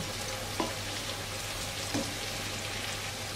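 Pepper paste sautéing in a pan for a saucy meatball dish, a steady soft sizzle with faint stirring taps at intervals, quiet and continuous with no talk.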